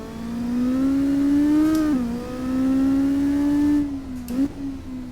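Simulated Honda lawnmower racing engine in Assetto Corsa on the Macau Guia Circuit, a loud, steady buzzing whine held at high revs, dipping briefly for two gear shifts or lifts before climbing again, close and alone without talk.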